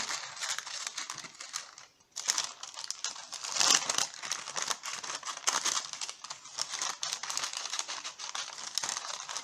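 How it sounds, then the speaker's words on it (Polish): Scissors cut through baking paper for an acrylic nail-art stand, close crisp snips and crinkling paper in an irregular rhythm with a short pause early on, no voices. "Bierzemy się za wycinanie."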